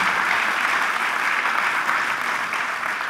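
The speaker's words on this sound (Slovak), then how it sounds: "skúsme si veľký potlesk" Steady, dense audience applause at a Bratislava mayor's award ceremony, even and sustained throughout with no voices breaking through.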